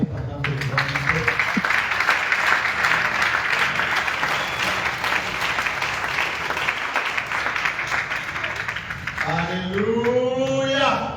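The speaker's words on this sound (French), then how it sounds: "Est-ce que nous pouvons acclamer pendant que nous invitons?" Audience at an international church youth retreat applauds steadily and loudly throughout, a dense wash of clapping with voices beginning to call out near the end.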